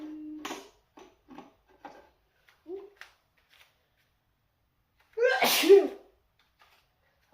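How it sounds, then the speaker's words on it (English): A single loud, close sneeze into an arm during chicken marinade preparation, preceded by faint taps and clinks of spice jars and kitchen handling. "I sneezed in my arm, don't worry."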